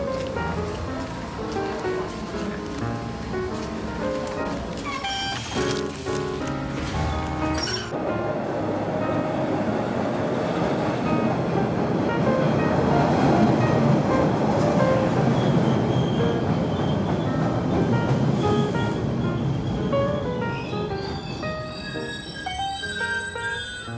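Metro train ride in New York City, a continuous rumbling roar with clattering and rising, squealing wheel tones that swell in the middle and ease off near the end.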